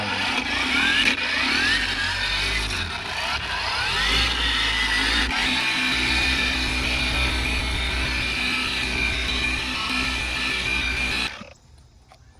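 Rotary polisher buffing a car headlight lens at speed 3500 during a restoration, a steady whining motor with shifting pitch as pressure changes, close and continuous before cutting off abruptly near the end.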